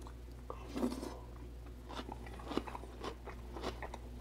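Homemade sauerkraut bitten and chewed up close, a few crisp crunches spread over several seconds, quiet and intimate with faint background hum.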